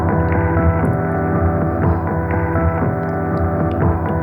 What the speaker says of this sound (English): So it's almost like a space echo kind of self-oscillation.